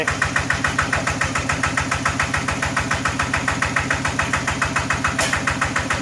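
A second-hand walk-behind farm tractor engine runs steadily at idle, a close, loud, even chugging with a regular rapid knock throughout and no talking.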